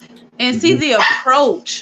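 A dog barking and yelping in short bursts close to the microphone, mixed in with someone talking.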